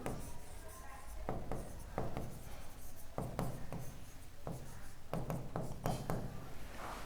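Chalk or marker strokes scratch across a board as maths is written in a classroom, coming in short bursts and taps at an uneven pace with a steady background hum, while a teacher talks.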